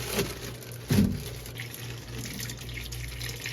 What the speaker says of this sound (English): So go ahead and just run some water through it, make sure it's clean before we boil it.